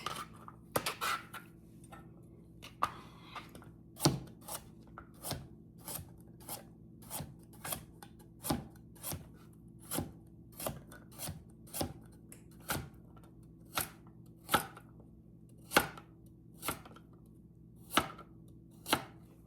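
A knife chops carrots steadily on a cutting board, sharp evenly spaced thwacks repeating about once a second, close up with no talking.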